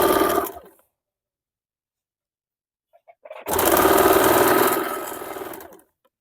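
Sewing machine running a line of stitches along blouse sleeve piping: a brief burst, a gap of silence with a few ticks, then a steady mechanical whir lasting about two seconds, close and fairly loud with no talking.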